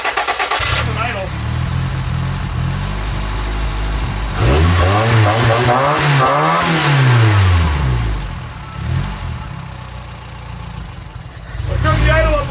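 A 1984 Toyota Tercel SR5 wagon engine running close by, a low steady idle with a revving swell in the middle before settling back down, a voice talking over it at points.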